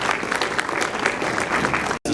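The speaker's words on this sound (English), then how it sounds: "a big round of applause for our panelists" An audience at a healthcare technology summit panel discussion applauds the panelists, dense steady clapping filling the room without a break until a sudden cut near the end.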